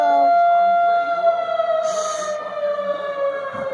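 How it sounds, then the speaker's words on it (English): A tornado warning siren wails outdoors with a long, steady, slowly falling tone that sits in the background, carrying on across the whole stretch, with a brief burst of other noise partway through. "Is that a tornado, siren?"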